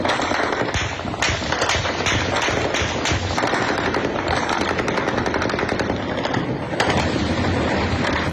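Dense, continuous crackling bursts of gunshots in Bawku, a rapid overlapping barrage of sharp cracks that goes on without pause, loud and close-sounding throughout.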